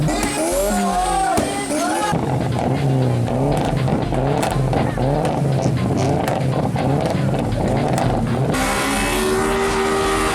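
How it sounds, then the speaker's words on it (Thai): A car's tires squeal loudly and continuously in a burnout alongside a roaring engine, the screeching pitch wavering throughout without a break. "จอดตรงนี้เขาเปิดยาง แล้วมีเสียงเยอะที่สุด"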